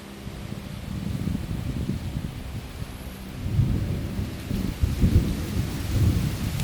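Thunderstorm over a forest fishing spot in Amphawa, with a low rolling rumble of thunder under steady rain that swells louder in the second half.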